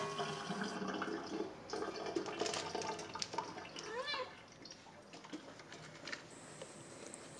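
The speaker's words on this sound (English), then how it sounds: "I pour out the water." Water pours and splashes in a steady stream with small clinks and taps, close by, fading to quieter trickles near the end.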